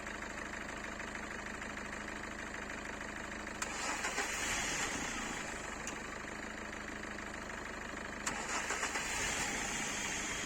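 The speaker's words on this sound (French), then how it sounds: "la voiture elle a démarré quasiment au quart de tour" A BMW E36 with a newly fitted engine runs at a low, steady idle, faint and continuous, with two brief sharper lifts in the engine note partway through and no voices.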